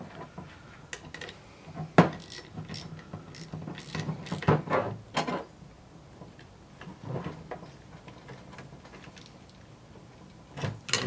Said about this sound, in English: Let's see if we can get this last screw to engage